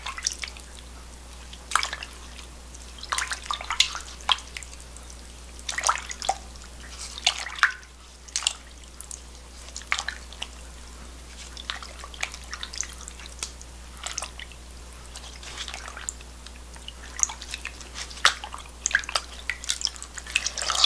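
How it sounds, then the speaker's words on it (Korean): Yellow bean leaves being rinsed one by one in a basin of water for kimchi, with steady close dripping, splashing and wet handling sounds continuing throughout, no talking. "그래서 이렇게 흐트러지지 않게 하나하나 이렇게 씻으셔야 됩니다."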